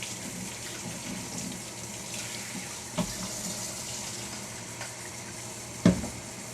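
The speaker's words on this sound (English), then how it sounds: "Gotta get some hot water going." Steady rush of hot water running from a tap, continuous throughout, with a few faint knocks and clinks of cups and dishes near the end.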